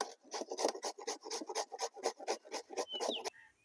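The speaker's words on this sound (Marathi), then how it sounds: "सगळे आंबे किसून झालेले आहेत." Mangoes grated by hand for mango muramba, a rapid rhythmic series of rasping strokes, about a dozen evenly spaced scrapes close up, ending with a brief pause.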